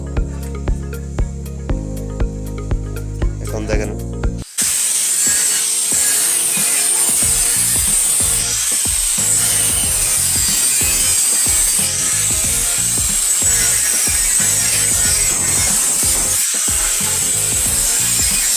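A tool cuts metal for a Mishuk rickshaw chassis with a loud, harsh, continuous grinding rasp at close range, following a few seconds of music.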